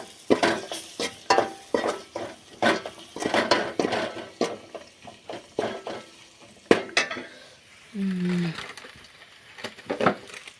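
Onions and tomatoes fry in oil with masala for a spiced meal maker and macaroni dish. A spatula scrapes and clatters rhythmically against the pan over a soft sizzle, with a brief hum near the end.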